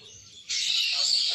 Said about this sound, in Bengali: পাখির কুজন শুনুন।